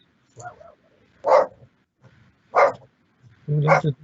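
A dog barks three or four times in sharp, spaced bursts, close and fairly loud, in a room during a council planning committee meeting held remotely.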